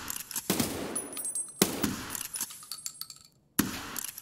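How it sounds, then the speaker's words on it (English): Gunfire in the shooter game Escape from Tarkov: three loud, close bursts of shots, each with a ringing tail and metallic clinks, separated by short quieter gaps. "I shot him in the face."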